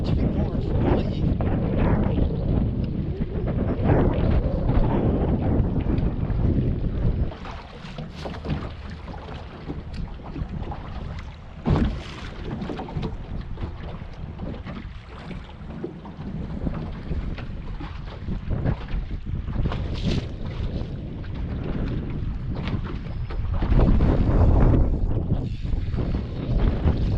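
Strong cold wind blows hard across a lake during bass fishing, a loud continuous roar of gusts against the microphone, with a voice speaking at times.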